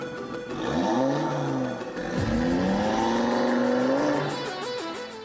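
An Audi RS3 five-cylinder engine revs hard and accelerates, its pitch climbing through gear changes with a loud, raspy exhaust note, close by.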